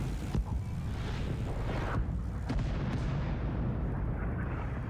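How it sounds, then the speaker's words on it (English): Artillery fire in Rising Storm 2: Vietnam, heavy booming blasts and rumbling impacts rolling on through the whole stretch, loud and dense, with wind-like roar between the hits. "Artillery coming."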